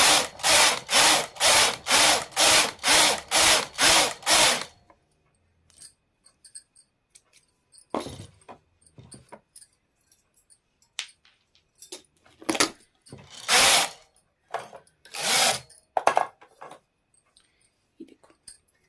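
A knitting machine works a plain row in woolen yarn: about nine loud, evenly spaced rasping carriage strokes come first. Scattered clicks, handling noises and a few further sliding passes follow over near-silence.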